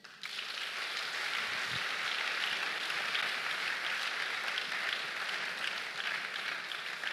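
A church congregation applauding: dense, steady clapping that swells in at once and holds evenly throughout, with no speech over it.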